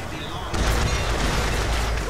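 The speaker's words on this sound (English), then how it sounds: "That's a volley gun." A volley gun fires in the video game Bioshock Infinite, a loud booming blast that swells suddenly and rumbles on heavily for well over a second, close and dominant.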